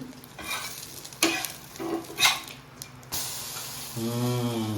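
Bread omelette frying in oil in a pan, a moderate crackling sizzle broken by several utensil scrapes and clinks, then a steadier hiss near the end.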